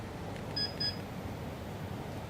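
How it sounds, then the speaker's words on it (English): Two short high-pitched beeps from an old computer motherboard's beep code in quick succession over a low background hum, clear and close. "We're still getting that 2 beep. What's 2 beeps on a board this old?"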